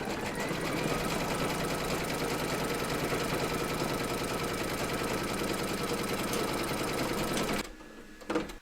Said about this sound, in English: You are now going to stitch round number 3, and that's going to secure your fabric and then quilt it.